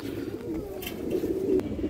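Indian high flyer Kaldam pigeons coo steadily in a low, throaty murmur, several birds close by with overlapping calls and no voices.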